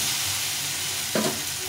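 Spices with turmeric powder frying in a pan for Bengali masoor dal, a steady close sizzle and hiss with a brief scrape of stirring near the end, no voices.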